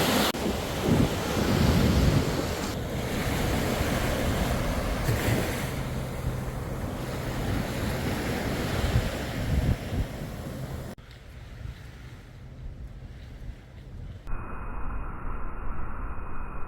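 Ocean surf rushes and washes onto an eroded beach at Playa del Carmen, a loud continuous roar mixed with heavy wind buffeting the microphone, shifting and thinning abruptly near the end.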